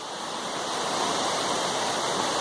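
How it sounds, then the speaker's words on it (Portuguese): A waterfall on a forest hiking trail roars as a dense, steady broadband rush, loud and unbroken, with no voices over it. "Ó, cachoeira linda, galera, cachoeira linda."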